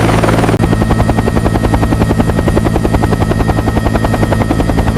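A rescue helicopter lifts off, its rotor giving a loud, close, rapid rhythmic thumping over a constant turbine whine that fills the whole stretch.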